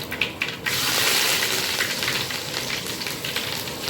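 Curry leaves hit hot oil that already holds popped mustard seeds and cumin, for a radish and moong dal kootu. A steady, loud, close crackling sizzle rises after a few pops.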